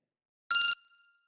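One short, high drawn note from a chromatic harmonica on hole 10 sounds steady and clear for a moment, then fades into a faint tail, alone and close.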